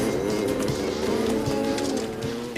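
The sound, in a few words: cattle herd mooing in the Australian outback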